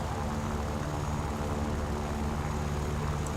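Propeller engine of a Hudson bomber in the game War Thunder, a loud, steady droning hum with no break, close and alone.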